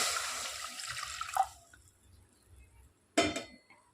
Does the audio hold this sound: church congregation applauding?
no